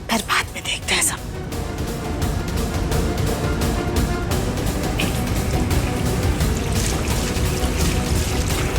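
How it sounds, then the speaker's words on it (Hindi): Water splashes and pours loudly close by as someone rinses their face with a few handfuls of water, the watery rush running continuously after a couple of sharp splashes. "पहले मुंह में थोड़ा सा पानी मार लेते हैं"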